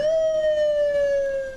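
An ambulance siren at a prison gate in Sri Lanka during a riot, sounding as one loud, steady, sustained tone that drifts slowly downward in pitch, with no voices over it.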